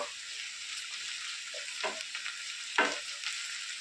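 Mustard seeds, onions and ginger paste frying in a pan give a steady, fairly faint hiss, broken by a couple of brief stirring scrapes, with no voices.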